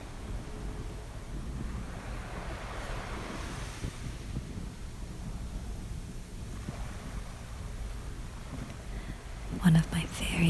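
Ocean surf washes steadily onto a seashore at sunrise, a continuous soft roar of breaking waves with wind buffeting the microphone, and a brief louder crash near the end.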